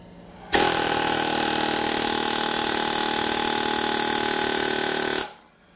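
A Harbor Freight Chief Pro pneumatic air hammer drives a chisel in one continuous, loud, steady buzzing burst of about five seconds, starting and stopping abruptly, with no talk over it.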